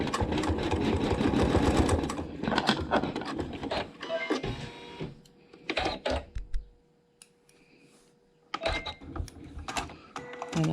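A sewing machine tacks down a quilt block seam in several bursts of rapid mechanical stitching, separated by short pauses and handling noises, loud and close.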